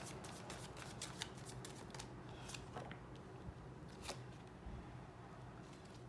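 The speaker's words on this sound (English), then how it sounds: "One more shuffle." Tarot cards being shuffled by hand in a quiet room, a steady papery riffling and shuffling that runs throughout with small sharp flicks, close and alone with no talking.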